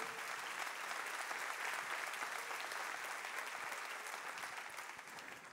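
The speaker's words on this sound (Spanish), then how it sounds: "Si le dan un fuerte aplauso a Dios" A church congregation gives strong applause to God, a steady wash of clapping that holds evenly and then fades slightly at the close, faint in level but continuous.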